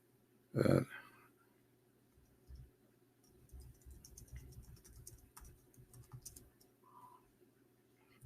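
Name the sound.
typing on a computer keyboard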